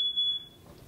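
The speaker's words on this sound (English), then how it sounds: "And there's the smoke detector." A shrill, high-pitched smoke alarm tone sounds at the start and fades within half a second, over a quiet room, during a chimney fire with black smoke billowing.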